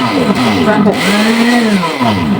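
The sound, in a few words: electric blender mixing batter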